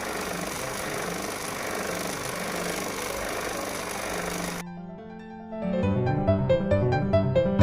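A vacuum pump evacuating a refrigeration showcase system drones steadily and loudly up close, briefly dropping in level before resuming with a harder, pulsing mechanical rattle.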